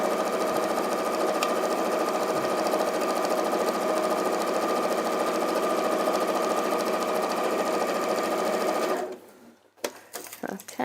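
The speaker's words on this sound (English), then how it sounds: "we can feed the next panel through as well, just by raising that presser foot and doing a little chain stitch in there" Sewing machine chain stitching fabric panels, a loud close continuous motor whir with rapid needle chatter that stops abruptly near the end, followed by brief handling clicks.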